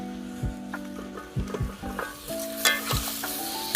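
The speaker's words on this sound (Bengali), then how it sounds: "এবার আমরা এই ইঁচড়টা দিয়ে দেবো।" Young jackfruit hitting hot spiced oil in a pan: a bright, crackling sizzle swells up close, broken by several clinks and scrapes of a stirring spoon against the metal.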